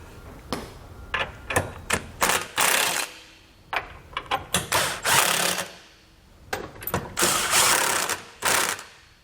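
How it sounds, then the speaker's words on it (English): Impact driver snugging the bolts of an etrailer trailer hitch receiver on a 2020 Honda Pilot, loud close bursts of rapid hammering in short and longer runs separated by brief pauses, with no talking. "we're going to go ahead and take our impact driver here"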